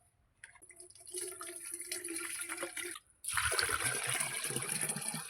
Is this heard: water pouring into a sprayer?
yes